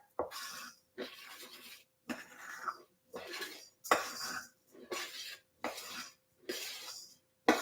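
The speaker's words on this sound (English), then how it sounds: "stir it up." A utensil stirs a dill mixture in a bowl, making about nine rhythmic scraping, clinking strokes that are evenly spaced and close, with short pauses between them and no talking.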